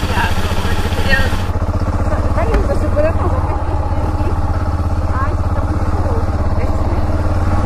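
A motorcycle engine runs steadily nearby, a loud rumbling idle with a constant low throb and some clatter throughout.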